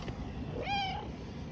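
A ginger female street cat, the tailor's cat, with a docked tail, gives a single short meow close by while being fed outdoors. The meow rises and falls over a steady background hum.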